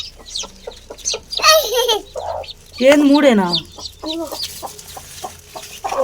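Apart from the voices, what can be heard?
chicks cheeping and hens clucking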